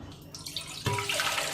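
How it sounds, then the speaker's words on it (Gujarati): Half a litre of water pours into a steel vessel for jaggery water, a soft trickle that swells into a louder, steady splashing rush partway through, close up with no talk. "સો આપણે સ્ટીલનું વાસણ લઈ રહ્યા છે અને એમાં આપણે ½ લીટર વોટર નાખશું."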